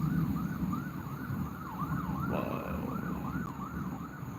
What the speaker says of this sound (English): Hit the sirens, you hear that shit all night.